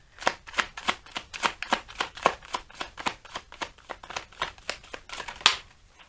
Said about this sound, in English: I'm going to take one more card.